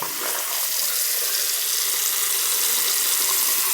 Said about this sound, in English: I'm giving it a good flush with the hot water